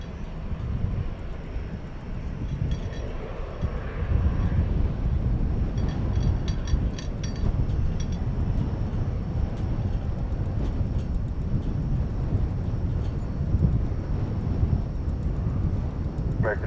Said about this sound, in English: I believe this to be American 1062 going to Albuquerque, New Mexico.